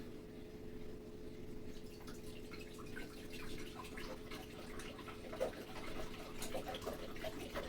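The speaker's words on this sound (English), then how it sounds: "I am going to start with 2 quarts of apple juice." Apple juice pours into a crock pot, two quarts of it, as a steady faint liquid stream with small splashes and drips, continuous and close, without talk.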